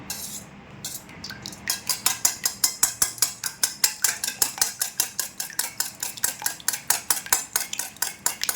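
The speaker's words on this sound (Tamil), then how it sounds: "இப்போ வந்து நல்லா பீட் பண்ணணும் நல்லா ஒரு இருபது நிமிஷத்துக்கு விடாமல் பீட் பண்ணணும்" Rapid, steady whisking of egg whites for a cake batter, a close metal whisk clicking against a bowl in an even fast rhythm after a brief start, with no talking.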